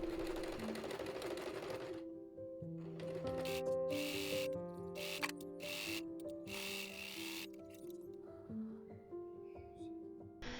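A sewing machine stitches the shoulder seams of a dress in a steady, close mechanical whir with shifting motor pitch and brief pauses, and no talking.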